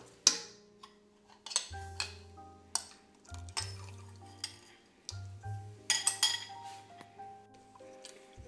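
A spoon clinks and taps against a pan while wheat halwa batter is stirred, a series of sharp close knocks and scrapes at an irregular rhythm, with a low hum beneath and no voices.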